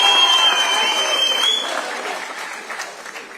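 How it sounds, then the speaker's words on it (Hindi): Audience applause at a political rally speech in Mumbai, a dense wash of clapping that starts loud and gradually fades, with a thin whistle-like tone early on. "जोर से तालियां पूरा"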